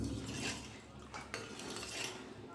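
A spoon clinks and scrapes against a bowl while salt and ground chili and other spices are mixed into water for a Bengali hilsa fish curry with potato and eggplant, quiet, close, repeated light metallic taps and swirls.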